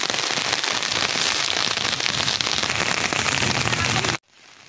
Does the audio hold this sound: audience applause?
no